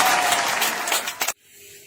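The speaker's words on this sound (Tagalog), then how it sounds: "Palakpak daan." A small group claps at home after a cookie face challenge, a brisk burst of applause that stops abruptly, leaving quiet room tone.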